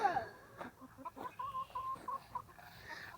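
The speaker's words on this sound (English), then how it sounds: "this shed we've turned into a chicken coop, and you can see some of our chickens" Several chickens cluck and murmur close by in short, irregular bursts inside a shed coop, with soft rustling in between.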